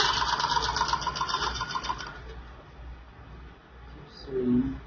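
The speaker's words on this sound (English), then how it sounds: "Then you keep sewing." A sewing machine stitches the lining of an A-line long skirt, a rapid rhythmic whir for about two seconds that then fades out, followed by a brief sound near the end.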